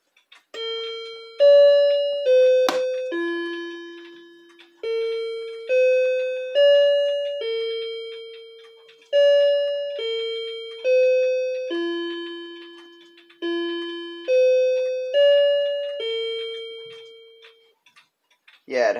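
A low-pitched coil gong wall clock with no hour strike chimes a repeating melody, each phrase of resonant gong tones ringing out and decaying, set off by brief pauses, clear and close.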